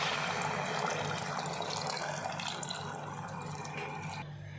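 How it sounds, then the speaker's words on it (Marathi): Heated water pours into rice for khichdi, a steady rushing, splashing stream that holds close and fairly even for a few seconds and then stops abruptly near the end. "आपण याच्यामध्ये पाणी टाकून घेणार आहोत."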